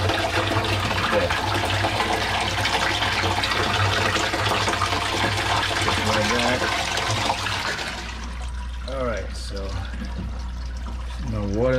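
Steady rushing and pouring water runs continuously through a pipe into a koi pond filter barrel, then thins to a lighter trickle as a person begins talking nearby.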